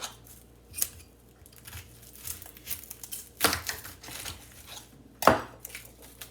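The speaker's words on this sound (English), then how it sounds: "Just gonna chop it up small pieces because I like onion." Half an onion is chopped into small pieces on a board, giving a series of irregular crisp knife taps and crunches, close and moderately quiet, with some louder strikes.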